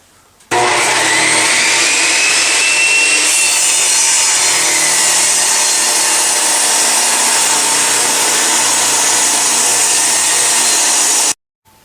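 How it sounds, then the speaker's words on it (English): A 2-inch thick chestnut hardwood board being power-sawn to width for a turkey call: a loud, steady, whining cut runs nearly eleven seconds without pause, then stops abruptly. "we have a 2-inch thick chestnut hardwood piece, and we're gonna cut the width down to 2 1/8."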